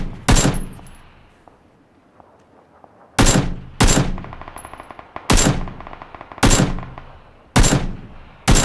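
Rifle fire from an SKS in the battle-royale game PUBG: single loud, sharp shots ringing out about every second in a steady run, each trailing a brief echo, with a quiet gap before the volley starts.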